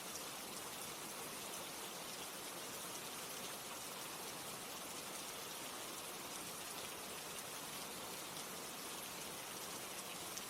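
Steady, dense rainfall hisses evenly throughout, a constant wash of drops with no pauses and no voices.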